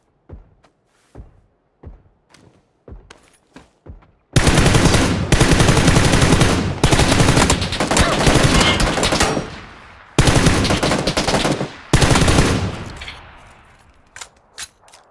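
Video game gunfire aimed at the player in an iron-sights shooter: a few scattered single shots, then long deafening bursts of automatic fire, close and relentless, with a final short burst trailing off.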